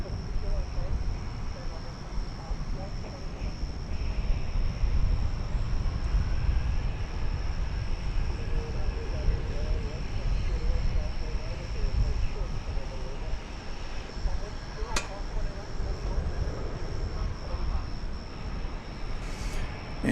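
American Airlines Airbus A321 bound for Phoenix taking off at Dallas Fort Worth airport, a steady broad jet roar holding throughout, rather distant and even, with a voice speaking over it at times.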